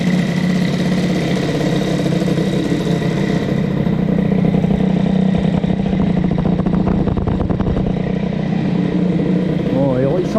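A Peugeot Fox moped with a freshly fitted Boost cylinder head idles just after its first start, a steady, loud, buzzing two-stroke putter with slight rattles and a clattering patch in the middle.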